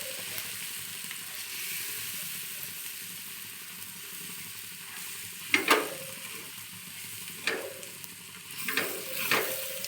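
Thick pithla made from gram flour sizzles in a pan on a tawa, with a steady frying hiss underneath and several distinct scraping strokes as a spoon stirs and turns the mixture.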